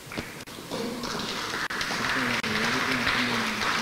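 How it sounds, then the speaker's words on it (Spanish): An audience at a national engineering week conference applauds steadily for an invited speaker, with a voice speaking over the clapping. "Por favor, un fuerte aplauso."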